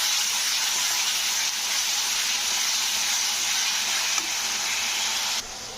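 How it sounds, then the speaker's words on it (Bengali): Onion paste frying in hot oil, a steady bright sizzling hiss that holds evenly for several seconds, close and fairly loud, with no voices. "পেঁয়াজগুলোকে তেলের মধ্যে ভালো করে কষে নিতে হবে"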